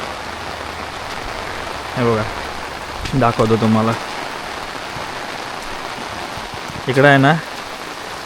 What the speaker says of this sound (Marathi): पण आता बघा कालपासून पाऊस पडतोय